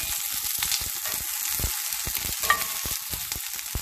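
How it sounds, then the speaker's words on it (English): Shishito peppers blistering in ghee in a hot pan, a continuous close crackling sizzle with frequent small pops and spatters, no talking. "And now I have my shishito peppers, trying to blister with some ghee."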